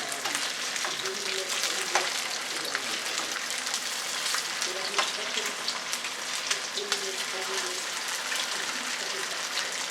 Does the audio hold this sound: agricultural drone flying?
no